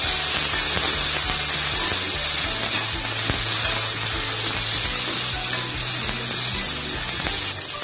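Green chillies with a handful of mint and coriander hit hot oil for mushroom biryani, giving a loud, continuous close sizzle and crackle throughout, with no one speaking.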